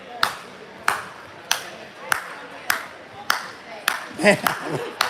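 A single person does a slow clap during a timeout at a youth basketball championship game, about eight evenly spaced loud claps, with faint gym chatter and a shoe squeak behind.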